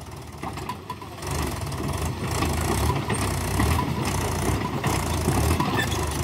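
A Mahindra 575 tractor strains to drag a loaded dumper trailer free, its engine roaring loud and steady close by for the whole stretch with no talk over it.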